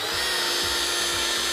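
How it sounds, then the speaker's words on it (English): A car polishing machine buffs paint at around 1500 to 1800 RPM under light pressure, a loud, steady high-pitched whir with a faint low rhythmic pulsing from the back-and-forth passes. "So I'm now going to turn the machine up to 1500 to 800 RPM, light pressure on the machine and start 10 passes again."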